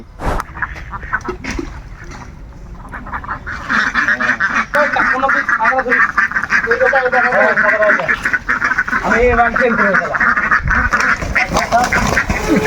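Domestic country ducks quack loudly in a close, agitated flurry as they are chased and caught in a village yard, with calls overlapping almost continuously and people talking among them.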